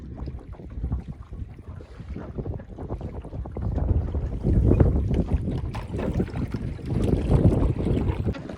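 A boat moves through floodwater in a village in Panchmahal, Gujarat, with steady engine rumble and splashing, wind buffeting the microphone throughout, growing louder toward the middle and end.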